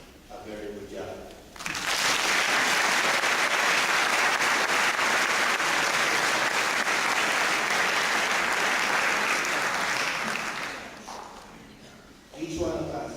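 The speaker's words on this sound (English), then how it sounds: "I am humbly asking everyone to give us, the graduates, a round of applause" An audience at a college graduation ceremony breaks into sustained applause for the graduates, a loud, dense wash of clapping lasting about nine seconds before fading, with a speaking voice before and after.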